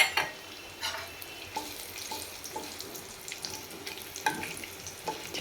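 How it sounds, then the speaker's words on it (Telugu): Spices crackle and pop in hot oil while frying for chicken masala, with irregular sharp snaps over a soft, continuous sizzle heard up close. "చిట్పట్ అవుతుంది."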